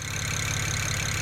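A BMW E9X engine running right after fuel injector replacement, a steady close idle with a low rhythmic pulse that holds evenly throughout.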